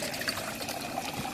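Water poured from a container into a cooking pot set over a hot blue gas flame, a steady close splashing trickle lasting the whole moment without talk.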